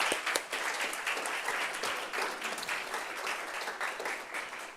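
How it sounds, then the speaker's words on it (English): A crowd applauds steadily, a dense patter of many hands clapping close by for several seconds without pause. "let's give those four a round of applause"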